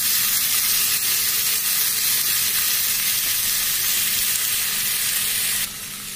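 Taro and potato chunks frying with spices in a pan for kochu ghonto, a steady dense sizzle and hiss held close and loud throughout, easing slightly at the very end; no talking.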